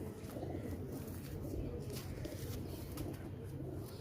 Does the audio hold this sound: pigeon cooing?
yes